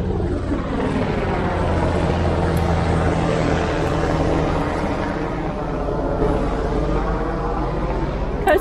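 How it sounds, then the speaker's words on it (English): A Coast Guard helicopter passes overhead, a steady loud rotor and engine roar with a sweeping droning tone that holds strong throughout, outdoors beside an RV roof. "Coast Guard helicopters fly over here all the time"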